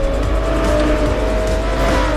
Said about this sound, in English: racing an R3 800 class Gallardo series event list race